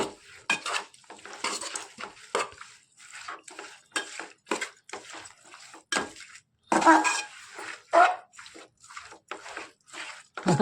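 A metal spoon scrapes and clanks against a pot as chicken biryani ingredients, fried in oil with onions and garlic, are stirred together. The strokes come in a steady, irregular rhythm of close, clattering scrapes, with brief gaps between them.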